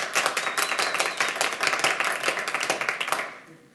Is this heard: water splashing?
no